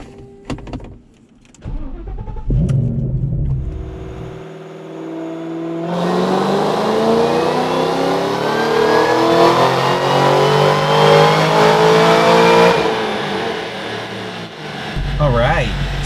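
2014 Ford Shelby GT500 with mild tuning making a dyno pull: the engine fires up, then revs in one long climbing sweep with supercharger whine, loud and close, before dropping back to idle.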